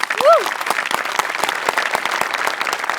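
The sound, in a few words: audience applause for the hair, makeup and costume department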